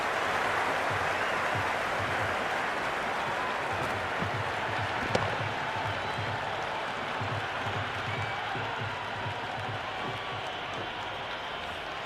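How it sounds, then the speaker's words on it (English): Steady roar of a cricket stadium crowd in the Cricket 26 video game, a dense continuous wash of cheering and applause holding at an even loudness, with one brief sharp spike near the middle. "There's a buzz, a real buzz coming from the stands."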